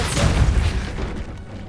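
Depulso spell cast in the video game Hogwarts Legacy: one deep, booming burst that swells quickly and fades into a lingering low rumble within two seconds.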